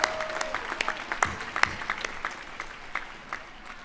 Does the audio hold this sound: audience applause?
yes